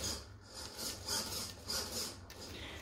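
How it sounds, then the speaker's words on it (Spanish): Steering servo on an Axial SCX10 II 1955 Ford F100 RC crawler truck, a rasping whir repeating in short bursts about every half second, close up with no talk. "nos da una buena respuesta del servo"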